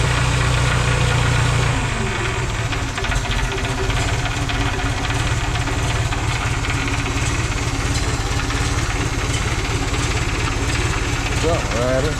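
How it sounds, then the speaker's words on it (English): An old tractor engine running at idle, steady loud close chugging rumble with mechanical knocking, continuous throughout with no speech over it. "Old tractor cranks about as easy as anything I ever seen."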